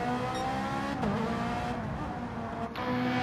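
Ferrari race car in a Brands Hatch racing video game, its engine droning steadily at high revs with a pitch dip and brief tyre scrub as it spins and recovers, loud and continuous throughout.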